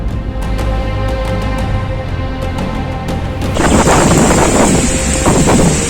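Loud, steady wind roars and buffets the microphone, growing harsher and more turbulent partway through, with a broadband rushing like a storm gust, during a rain and hail storm in hills near Islamabad.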